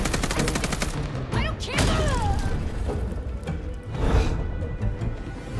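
Automatic weapon gunfire in Vampire Bloodlines 2, loud rapid bursts with sharp cracks and thuds, interrupted midway by a swooping game effect, then another burst near the end.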